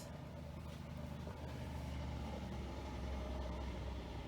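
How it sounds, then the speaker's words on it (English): A noisy truck passes outdoors, heard from inside a room as a faint, low, steady engine rumble that swells slightly as it goes by, with no talking. "that was a noisy truck that just went by"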